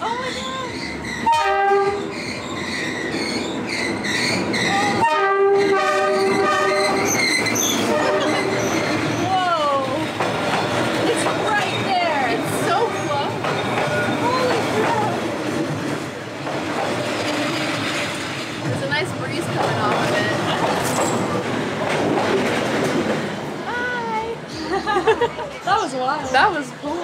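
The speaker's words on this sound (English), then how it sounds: "That's a big train." A big train thunders past close by in Hanoi, Vietnam, with a loud horn blast, rumbling wheels and squealing rails, while people talk and exclaim over it.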